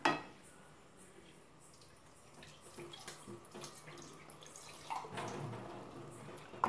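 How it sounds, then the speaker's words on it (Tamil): A water mixture pours and splashes into a pan of wild mushroom gravy nearby, with a few clinks of utensils and faint sizzling under the flowing water. "இதில் இன்னும் கொஞ்சம் தண்ணி கலந்து ஊற்றிடலாம்."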